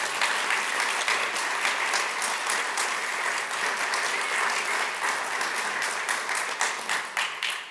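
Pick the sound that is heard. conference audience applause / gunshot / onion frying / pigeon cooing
conference audience applause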